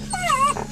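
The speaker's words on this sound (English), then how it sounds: "My puppy's crying because Grandma is at the farmer's market." A puppy with separation anxiety whimpers in a brief, high, wavering cry, close and fairly loud, with no talking.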